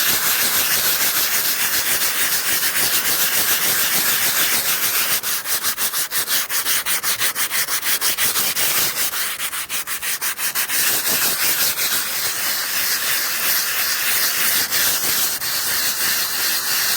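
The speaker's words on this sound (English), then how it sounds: "I'll sand it down, try to get all the rust off that I can" Sandpaper scrubs rust off a pitted car body in continuous close, hissing rubbing strokes, with faster rhythmic passes in the middle stretch.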